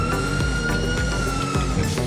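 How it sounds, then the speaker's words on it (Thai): A police car siren in the FiveM video game blares loud and continuous, a dense layered electronic wail filling the whole stretch, with no talking over it. "ก็ไซเรนนี่คือสามารถใช้งานได้นะครับ"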